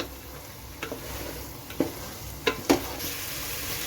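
Onions and dried lemons stirred and sautéed in oil in a pan, a steady sizzle broken by several scraping strokes of a spoon against the pan, close and moderately loud, with no voices.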